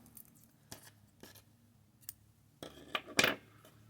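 Scissors snip crochet yarn for a moss stitch headband: a few faint clicks and handling sounds, then one sharper, louder cut near the end, all close and quiet.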